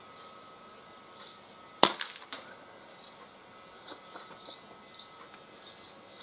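Single sharp shot from a Gletcher NGT RF air revolver fired outdoors, a brief crack followed by a short rattle, set against faint insect buzzing and bird chirps.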